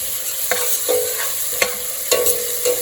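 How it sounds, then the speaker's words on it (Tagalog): Onion and ginger sauté in a hot pan for a mussel dish, a steady close sizzle broken by sharp scraping clicks of a utensil stirring every half second or so, with no talking. "Gisa muna tayo ng sibuyas. Ayan, haluin natin."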